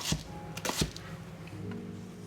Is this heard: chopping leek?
yes